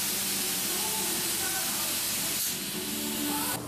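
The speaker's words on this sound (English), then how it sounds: "we're going to be spraying our closed cell spray foam insulation on the walls and the ceiling in this entire room" Closed cell spray foam insulation is sprayed onto the walls and ceiling of a brewery freezer room, a steady, loud, broadband hiss that runs continuously for several seconds with no speech over it.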